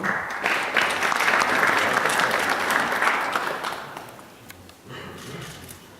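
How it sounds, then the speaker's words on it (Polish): Sustained applause from the audience at a Polish exporters' congress award ceremony, a dense wash of clapping that stays steady, then thins and dips near the end before picking up again. "a nagrody odbierze pan Daniel Stefański, brawa."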